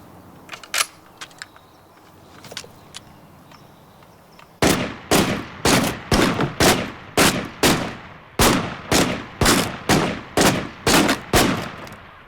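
Gunshots from target shooting crack out in a quick, regular string of about a dozen sharp, loud reports, after a few fainter scattered pops.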